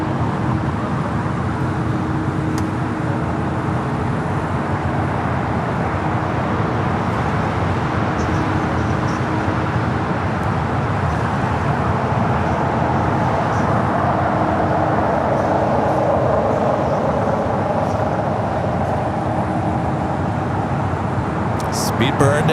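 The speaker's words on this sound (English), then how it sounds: "Followed by Hawaiian Flight 854 heading to Honolulu and" Hawaiian Airlines A321neo departing LAX for Honolulu, a steady broadband jet roar sustained throughout, with people talking over it.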